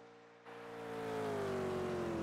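Engine of a car on a test drive accelerating steadily, starting after a brief quieter moment and building into a loud, rising drone with a strong tonal whine that holds to the end.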